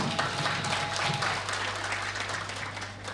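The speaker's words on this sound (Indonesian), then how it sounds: "Ini tepuk tangan dulu untuk UKM Buddha." Audience applause for a Buddhist student club at a campus Dhamma event, a steady wash of many hands clapping in a hall over a low hum, sustained and fairly even throughout.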